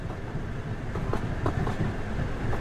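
Interior of a moving train, the Aurora Express, in the video game Durt Night Abyss: a steady low rumble throughout, with faint rhythmic clacks of the wheels running over the rails and no talking.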